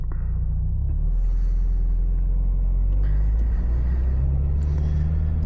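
A 2023 Toyota GR86 drives slowly while warming up, a steady low engine rumble from inside the car with a couple of small shifts in tone as the revs change.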